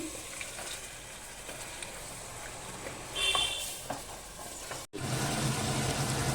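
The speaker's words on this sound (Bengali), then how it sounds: "এবার আমি হাই ফ্লেমে এটাকে ভালো করে কষিয়ে নেব।" Mutton fries on high flame inside a pressure cooker for curry, a steady sizzling hiss with stirring scrapes, a brief cut, then louder frying.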